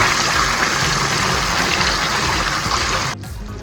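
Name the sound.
pouring oyster sauce into the pan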